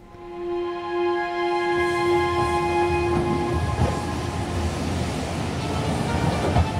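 A train sound effect set into an audiobook narration: a steady horn or whistle tone over rolling rail rumble, then the clatter of carriages continuing alone and fairly loud.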